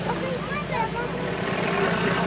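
A Fokker D7 WWI biplane drones past at an old-time airshow, its engine a steady, rough roar holding loud throughout, with voices faintly audible underneath.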